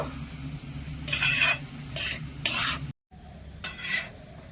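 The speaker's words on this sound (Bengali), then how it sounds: "তো এখানে আমি সবটুকু দিয়ে আবারও ভালো করে মিশিয়ে নেব" Semolina is stirred in a pan over low gas heat with a spoon, giving several loud scraping strokes in short bursts with a soft sizzle underneath and no voices.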